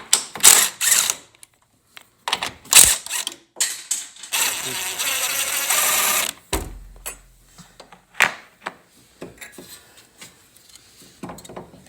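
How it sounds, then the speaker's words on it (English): A ratchet removing the bolt from the strut top hat of a Honda Civic Type-R FK8, heard as rapid close clicking bursts, a sustained whirring run, and scattered metallic taps and clunks. "we're gonna go ahead and take the bolt off from the top hat"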